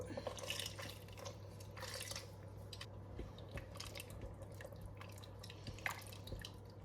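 Coconut milk pours into a dish of chickpeas, giving faint wet dripping and squishy liquid sounds over a low steady kitchen hum.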